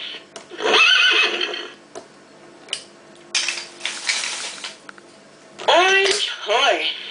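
A toy horse neighs from a LeapFrog Fridge Farm magnet toy, with a bright electronic whinny rising and falling near the end, after bursts of recorded toy voice.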